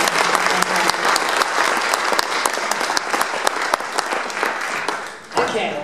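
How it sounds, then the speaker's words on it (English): An audience at a live music show gives the musicians a round of applause. The clapping is dense and steady, then tapers off near the end as a voice comes in. "Let's hear another round of applause for all the musicians"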